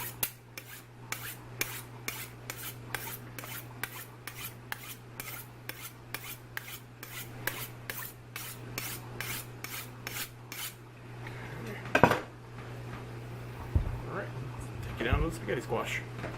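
A kitchen knife is sharpened with a quick, regular run of rasping strokes that stops partway. A voice talks after the strokes stop, over a steady background hum.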